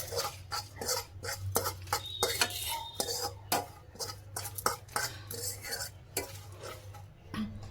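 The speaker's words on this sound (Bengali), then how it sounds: "এবার এগুলোকে একটু হালকা রোস্ট করে নেবো 2 মিনিট মতন" Whole spices (cumin, coriander, fenugreek, dried red chillies, cashews) being dry-roasted in a pan, heard as a busy run of metallic clinks and scrapes from steady stirring, fairly close, with a low background hum.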